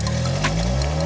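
Rough, loud engine of an old Chinese sports coupe revving close by, a throaty low rumble holding steady through the moment with some rattling texture, sounding like a broken tractor.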